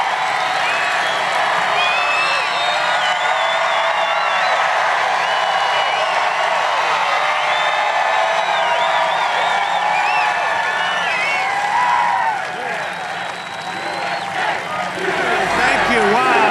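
Large outdoor political rally crowd in Cullman, Alabama, cheering and applauding loudly for a sustained stretch, a dense roar of voices and clapping that briefly dips near the end.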